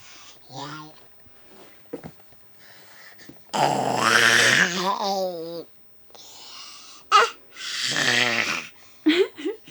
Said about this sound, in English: He's still growling, everyone.